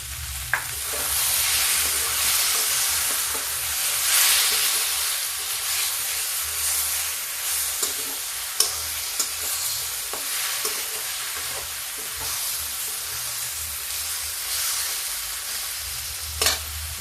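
Pan of cabbage and peas with tomato paste and chili cooking, a continuous loud sizzling hiss and steam with intermittent scraping stir clicks and a low background hum.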